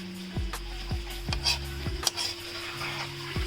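Spices are stirred into karela (bitter gourd) and potatoes in a pan, with a soft sizzle underneath, a few dull knocks of the spoon at uneven intervals and a steady low hum.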